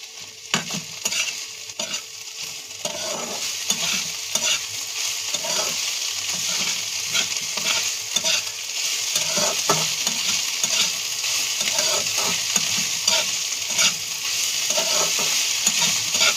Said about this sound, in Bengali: আমি সিমে ভাজা করছি